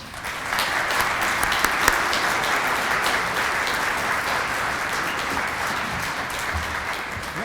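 Steady, loud applause from a conference audience welcoming a speaker, a dense even clatter of clapping hands that holds for several seconds without pause.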